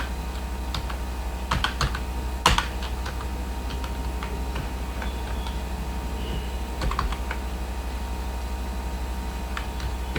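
Code typed on a computer keyboard, with steady soft key clicks and a few sharper taps over a faint hum, close by, with no talk.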